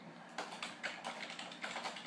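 Computer keyboard typing, a rapid run of close, crisp key taps in an uneven rhythm, heard alone without speech.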